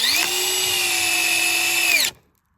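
A power drill drives a screw into a wooden tent platform board, its motor giving a loud, steady whine for about two seconds before cutting off abruptly into silence.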